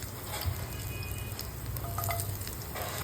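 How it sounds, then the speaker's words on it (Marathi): Finely chopped green chillies hit a hot oil tempering of mustard seeds and cumin, a steady close sizzle and crackle with faint stirring clinks. "त्यानंतर बारीक चिरून घेतलेली हिरवी मिरची टाकते"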